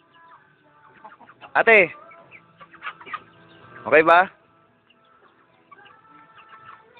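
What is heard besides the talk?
chickens clucking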